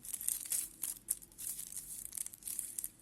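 Gold foil being peeled off an Eti Gold salted almond chocolate bar, close, quiet crinkling and tearing in short irregular bursts.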